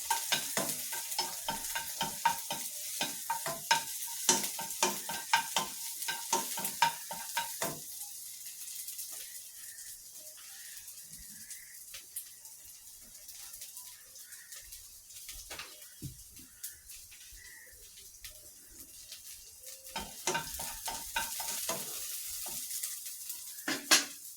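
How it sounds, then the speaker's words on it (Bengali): Chopped onion, garlic and rice fry in a pot while a dry wooden spoon stirs them, making repeated close scraping strokes over a light sizzle, with quieter stretches between bursts of stirring. "দিয়ে দিলাম এখানে পেঁয়াজ কুচি চাউলটা একটা শুকনা কাঠের চামচ দিয়ে নেড়ে নিচ্ছি"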